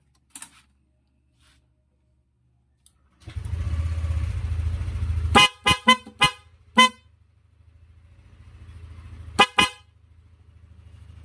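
Several short, loud blasts from a Korsa V3 snail horn fitted to a vehicle, first one burst, then a rapid cluster of four honks and a final pair, over a steady idling engine.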